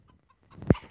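A single short clucking burst from a Minecraft Story Mode chicken, fairly close, after near silence with faint scattered noise.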